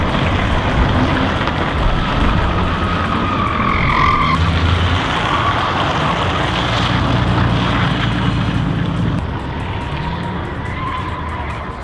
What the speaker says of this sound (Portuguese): O youtuber japonês Noriaro resolveu envolver os pneus traseiros do seu K-Car, que é aqueles carrinhos japoneses pequenos, com PVC.